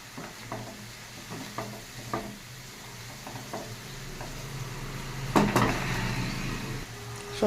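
Nigella seeds and green chillies dropped into hot oil, giving a soft steady sizzle with scattered taps and stirring clinks, swelling into a louder crackle near the end.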